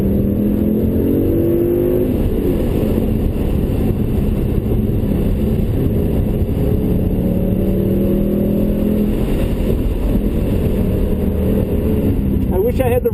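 A Ford Mustang S550 on a race track, held in second gear through a turn, pours out a loud, close engine drone whose pitch wavers gently as the car works through the corner.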